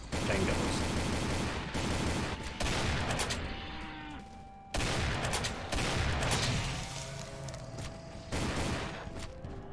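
Chaingunner enemies firing in the Doom mod Demonsteele, with dense, sustained bursts of gunfire and booms that run almost without a break and pause briefly between volleys, loud and close amid game effects.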